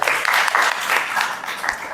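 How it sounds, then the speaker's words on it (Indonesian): An audience in a university classroom applauds for a student, many hands clapping together in a steady, fairly loud crackling patter that holds evenly from start to finish. "Kita beri tepuk tangan untuk Ibnu ya."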